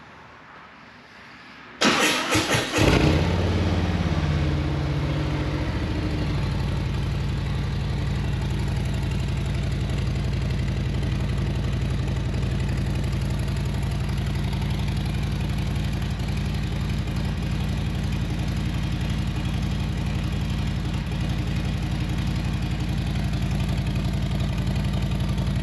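A 2020 Harley-Davidson Ultra Limited with a Fuel Moto Jackpot head pipe cold starts with a brief cranking burst, then settles into a loud, steady, deep idle heard close and without talk.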